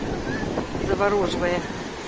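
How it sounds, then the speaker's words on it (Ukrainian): Sea waves wash onto the shore at Palanga under continuous wind buffeting the microphone, with a voice briefly audible in the middle. "море просто завораживает"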